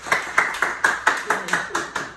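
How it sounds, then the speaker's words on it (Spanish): Church congregation applauding for Jesus during a Bible study service: about nine steady, evenly spaced clap bursts in a rhythmic beat, fairly close and loud. "Un aplauso a Jesucristo"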